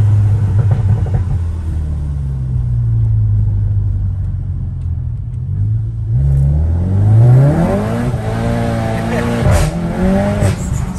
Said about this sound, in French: On entend la dump valve etc.